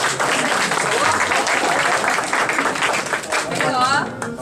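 An audience claps after a magic trick, loud continuous applause with voices talking and calling out over it, and a voice rising at the end.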